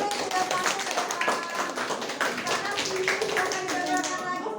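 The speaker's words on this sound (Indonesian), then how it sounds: "terima kasih tepuk tangan buat teman-teman yang sudah tampil ke depan" Classmates clap for fellow students who have just presented in front of a school class, a steady dense patter of hand claps that fills the room, with voices mixed in.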